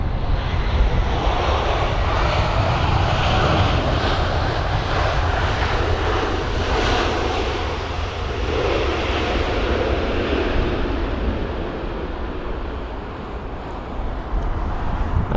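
An Airbus A321neo jet lands in gusty wind at London Heathrow, its engine roar loud and steady throughout, swelling and easing slightly with broadband wind noise mixed in.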